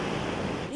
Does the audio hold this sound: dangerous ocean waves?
yes